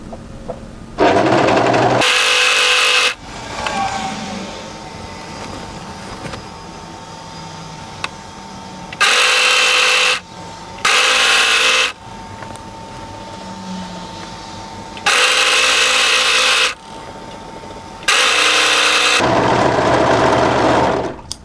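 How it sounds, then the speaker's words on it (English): Sewing machine stitching the side seam of a waterfall drape coatigan down to the body hemline, running in loud bursts of a second or two with quiet pauses between, repeated several times. "So go ahead and sew this all the way through to the body hemline."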